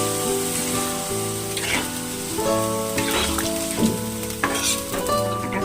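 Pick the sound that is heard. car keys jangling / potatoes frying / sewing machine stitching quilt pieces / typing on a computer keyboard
potatoes frying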